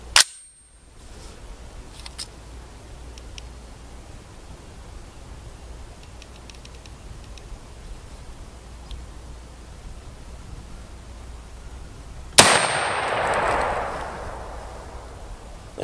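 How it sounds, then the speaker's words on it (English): A 5.56 full metal jacket rifle round fired into ballistic gel: a single loud, sharp shot near the end with a noisy, rushing decay. A quiet room and a brief click at the very start come before it. "we're going to shoot it one more time here and see if we can get it to actually come out the back of the gel"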